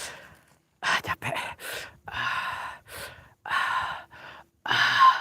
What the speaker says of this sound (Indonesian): Itu bukan suara kodok, gue ngos-ngosan.